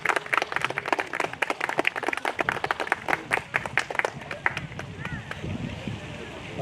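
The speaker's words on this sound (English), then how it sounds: "Guys, huge round of applause for Anish and Riya." An event audience claps for two presenters heading to the stage, a run of sharp, fairly loud claps with a few louder single hits, settling into a softer, busier murmur in the last seconds.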